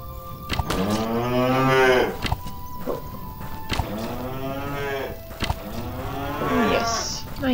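Cattle in the video game Animallica give three long, loud, drawn-out moos in sequence, separated by short gaps with faint thuds and clicks, and no voices.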